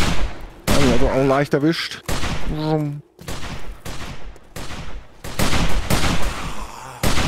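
Gunfire from the video game 7 Days to Die cracks out in bursts of sharp, loud shots, with people talking and exclaiming over and between them.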